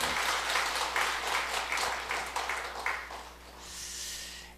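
Church congregation applauding at a year-end New Year's Eve worship service, a dense, sustained wash of many hands clapping for several seconds that thins and fades toward the end.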